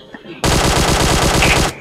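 Sustained automatic gunfire in the PUBG battle royale game, a loud, rapid continuous burst lasting over a second after a brief quiet lead-in, up close and filling the foreground.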